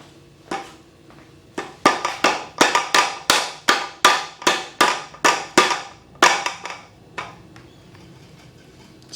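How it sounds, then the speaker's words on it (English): A bicycle crown race is tapped onto a Fairdale Goodship fork by thumping the fork against the ground, giving about a dozen sharp, evenly spaced knocks that speed up, then slow and thin out near the end. "use this to tap the crown race onto the fork. And the way I'm going to do this is by basically thumping it on the ground."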